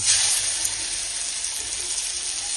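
Fish frying in hot oil, a steady bright hiss and crackle of sizzling that carries on loud and close throughout, with no talk.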